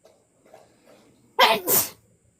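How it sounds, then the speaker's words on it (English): A single sharp, loud sneeze bursts out in two quick parts after a few soft murmurs, close by. "That was the cutest sneeze ever."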